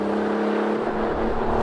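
A tuned 370 bhp BMW 335d diesel accelerates hard, its engine droning steadily and loudly from inside the car with a constant low hum and whir and no talk.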